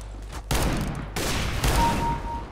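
Revolver shots in the video game CS GO, a few sharp booming blasts close together with ringing tails, loud and near.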